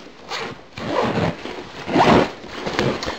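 Zipper on the top compartment of an Ozone gaming backpack being pulled open in several quick rasping strokes, close and clear with no talking.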